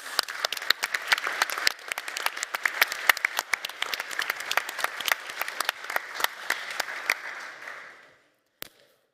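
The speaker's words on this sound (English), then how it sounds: "give them all a warm applause" A conference audience at Codegarden 2022 gives sustained applause, crisp individual claps rattling evenly for several seconds before dying out, with one last stray clap after a brief pause.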